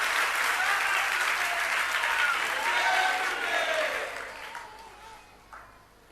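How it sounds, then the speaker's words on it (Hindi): Seated audience applauding at a Jain monk's religious discourse, a dense wash of clapping that stays loud for about four seconds, then tapers off into scattered claps and a faint voice. "सब नीचे बैठे बैठे ताली बजा रहे हैं।"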